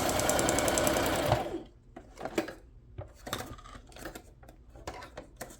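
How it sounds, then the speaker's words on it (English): Machine stitching on a soap box journal cover: a steady, dense mechanical whir for just over a second, then scattered clicks and light handling taps in a quiet room. "I'm just doing a little stitch on this."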